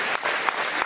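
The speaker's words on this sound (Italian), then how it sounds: "Le facciamo un applauso" Audience applause at a music school recital, a short steady burst of clapping filling the hall, close and even throughout.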